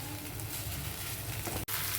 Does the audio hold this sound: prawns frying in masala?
yes